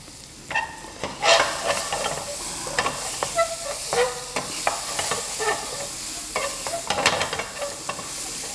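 Paneer seasoned with garam masala, cumin powder and salt, frying in a pan for paneer 65: continuous close sizzling and hissing with frequent clinks and scrapes from stirring throughout.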